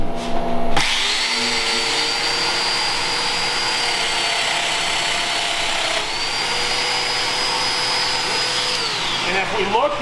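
Festool Domino joiner cutting a mortise in wood, a loud steady high-pitched motor whine that spins up, holds through a plunge, dips briefly, then winds down near the end, close and continuous with no talk.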